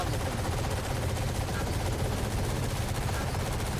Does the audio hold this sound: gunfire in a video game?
yes